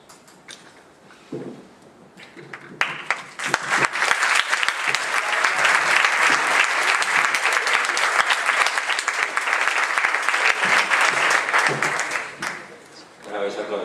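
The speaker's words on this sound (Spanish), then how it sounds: "Bueno, habéis aplaudido" An audience applauds after a talk on domino chain reactions, with clapping that builds quickly after a few seconds of talk, holds loud and dense, then thins out as it ends.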